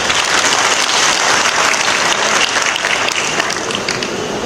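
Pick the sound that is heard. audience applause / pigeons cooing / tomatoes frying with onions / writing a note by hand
audience applause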